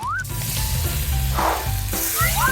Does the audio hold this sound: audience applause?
no